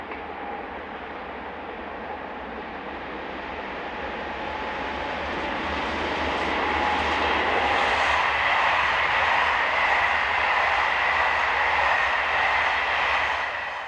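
SNCF BB15000 electric locomotive, number 15017, hauling a Cherbourg to Paris passenger train past Romilly-Poutinet; a steady rail roar swells as it draws near and holds loud through the passing, with no voices.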